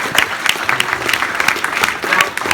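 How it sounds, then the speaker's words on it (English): Audience at a keynote speech applauding, a continuous, fairly loud wash of clapping from many hands with faint crowd murmur. "another round of applause for..."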